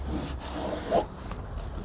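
A foam sponge sanding pad rubs briskly across a curved surface in short scratchy strokes, close and moderately loud, with no voices.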